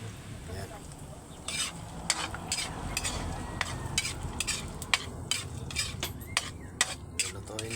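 Food stirred and cooked in a pan, with repeated utensil scrapes and clinks against the pan over a steady low cooking hiss, close and moderately loud, with a little background voice.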